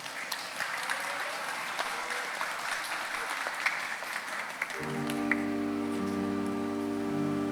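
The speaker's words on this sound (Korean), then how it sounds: "이 세상에서 가장 슬픈 수학여행을 떠난 아이들에게 박수로" Applause at a Sewol ferry memorial ceremony in Ulsan, moderate clapping from a gathered audience that gives way partway through to soft sustained tones of music.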